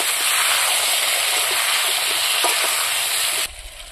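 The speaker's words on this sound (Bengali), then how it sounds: "এই লাউগুলো কিন্তু আমি ভাজি নেব, হালকা হালকা ভাজি নেব" Pieces of bottle gourd sizzle and fry steadily in a pan, a dense, close crackling hiss with a few stirring clicks, cutting off abruptly near the end.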